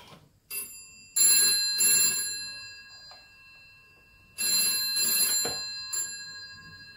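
Old telephone bell driven by a stage telephone ringer and line simulator rings in two clear double bursts, a short trill pair, a pause, then another pair, loud and close with no talk.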